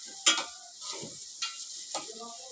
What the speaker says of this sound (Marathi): ते भाजून घेते हे बघा हे भाजलंय कांदा वगैरे चांगला ब्राऊन झालाय